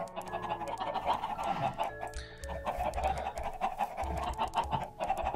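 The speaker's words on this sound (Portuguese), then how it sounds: "essas galinhas não estão me deixando me concentrar" Minecraft chickens clucking on a farm, a run of short soft clucks and pops over a busy game background, fairly quiet.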